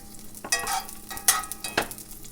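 Garlic sizzling in a layer of extra virgin olive oil in a cast iron skillet, with steady crackling frying noise and several scraping stirs of a utensil, close and clear with no voices.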